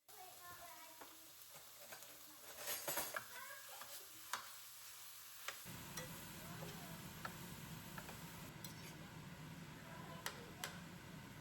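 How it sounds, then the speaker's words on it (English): Ground beef filling for quesadillas cooking in a heated pan, a steady close sizzle and fry that swells after the first few seconds, with occasional stirring scrapes and ticks. "I'm heating up a pan to cook the ground beef filling for the quesadillas"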